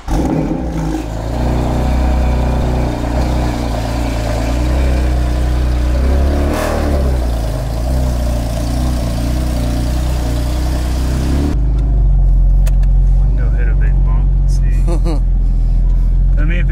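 A street car engine drones loudly and steadily on a test drive with a load of wheels, axles and tools aboard, the tone shifting as it accelerates, then dropping to a deeper, steadier rumble; people talk over it.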